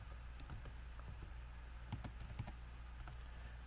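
Quiet keystrokes tap on a computer keyboard in short, irregular bursts with small pauses between them, close by and alone without any voices.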